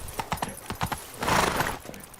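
Horse hooves clip-clop on the ground while riding in The Witcher 3, a quick run of close, distinct hoofbeats that ease off, with a brief neigh-like swell in the middle.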